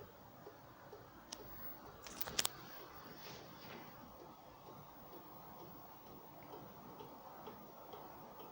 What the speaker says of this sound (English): Ticking away nicely.